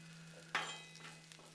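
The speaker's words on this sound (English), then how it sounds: "I'm just gonna come in here now and just kind of flip these jalapenos around just a little bit" Jalapenos sizzle on a hot Blackstone flat-top griddle, a quiet steady hiss with a sharper burst of crackle as they are flipped and moved, then settling back to a low fry under a steady hum.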